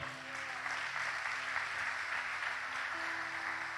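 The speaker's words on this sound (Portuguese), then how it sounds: "Aplauda ao Senhor." A church congregation applauding during a sermon, a dense, even wash of many hands clapping that holds steady for the whole stretch, with faint tonal hum underneath and no speech.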